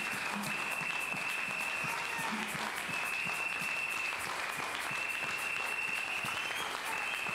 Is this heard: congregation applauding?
yes